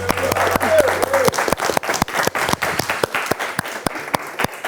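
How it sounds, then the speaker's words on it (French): Audience applause, dense rapid clapping from a crowd lasting several seconds, loud and close, with a brief voice heard at the start. "Applaudissez!"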